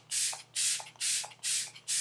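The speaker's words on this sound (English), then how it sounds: "We're gonna spray our face." Setting spray misted onto the face from a spray bottle, five short, crisp hissing bursts at an even rhythm, close and fairly loud, with no talking.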